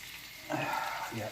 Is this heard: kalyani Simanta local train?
no